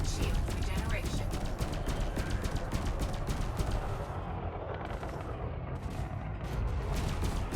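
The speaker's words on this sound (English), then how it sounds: "And that is why I use these cannons." Cannons fire in rapid, crackling bursts during a video game space battle, a dense stream of shots that eases slightly midway, with voices from the game talking underneath.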